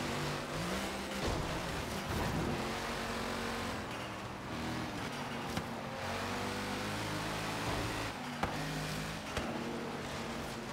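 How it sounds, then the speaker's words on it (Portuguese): A Mercedes with a turbocharged engine races in Forza Horizon 3, engine note rising and falling through gear changes with whooshing turbo and passing surges, moderately loud and steady, no talking. "Mas o barulho do turbo desse carro aqui tá uma coisa assim,"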